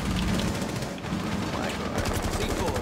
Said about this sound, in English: He just shot the window